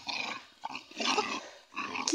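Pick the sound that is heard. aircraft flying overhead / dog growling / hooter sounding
dog growling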